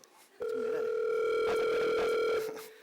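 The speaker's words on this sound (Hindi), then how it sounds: "आपका फोन आ रहा है।" A phone rings at a Bollywood trailer launch event: one steady electronic tone holds for about two seconds, loud and close, then cuts off.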